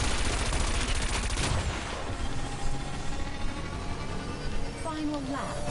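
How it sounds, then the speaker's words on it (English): The cannon weapon in wipEout Omega Collection lets off a rapid burst of rattling shots for about a second and a half, loud over the continuous roar of the racing craft, which carries on after the firing stops. "Cannon."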